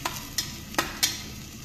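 Brinjal rice masala sautéed in a pan sizzles steadily while a spatula scrapes through it in four sharp, evenly spaced strokes, close and fairly loud.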